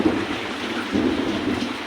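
Heavy rainstorm with a constant loud hiss of rain and a deep thunder rumble swelling and rolling through the middle, close and enveloping, no voices.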